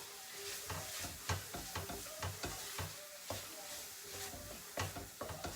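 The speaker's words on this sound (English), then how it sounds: "Okay, I'm just gently frying my masala now." Kashmiri masala sizzles and crackles gently in a pan, a continuous hiss broken by repeated stirring scrapes and clinks of a spoon at close range.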